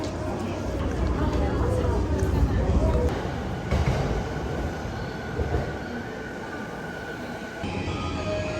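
A train runs with a steady, heavy rumble and rattle of the cars, loud and continuous, easing slightly toward the end, with people talking over it.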